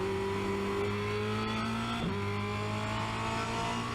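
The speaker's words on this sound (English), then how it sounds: "So I'm going to downshift the third, get on the throttle, let the car rotate underneath me" Formula Renault 2.0 race car at Spa-Francorchamps, its engine droning steadily at high revs, then a brief dip as it downshifts before climbing again under throttle, loud and close throughout with no talk.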